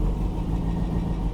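The engine of a 1990 Rover Mini Cooper with a turbo runs right after a cold start with the choke pulled, a close, loud, steady low rumble.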